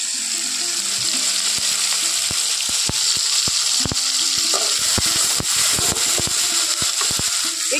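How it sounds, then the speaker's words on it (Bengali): Ground spice paste hits a pan of lightly fried tomato for bhindi masala, giving a loud, steady close sizzle with scattered clicks and stirring scrapes throughout. "এখন আমি এখানে দিয়ে দিচ্ছি যে মশলাটা বেটে রেখেছিলাম, সেই মশলাটা এখানে দিয়ে দিচ্ছি।"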